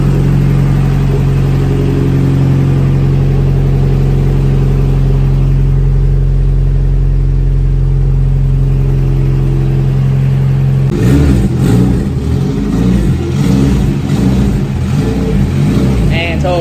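A turbocharged Honda Integra GSR with a B18C1 engine idles loudly and steadily nearby, then revs in a series of choppy throttle blips toward the end.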